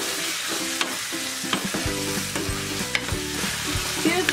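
Chili sauce being stirred into a pizza topping mixture in a hot pan on a low flame, with a steady sizzle under repeated scraping spoon strokes, close and moderately loud, no talking.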